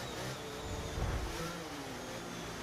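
Race cars at Monza in an F1 video game roar past in a dense, continuous wash of high-revving engines, loud and close, with no one speaking.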